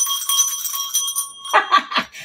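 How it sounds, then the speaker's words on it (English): Electronic bell tone from a classroom speaker, a bright ringing series of quick repeated strikes lasting about a second and a half, then a few scattered softer tones trailing off. "I might be ringing the school bell from now on."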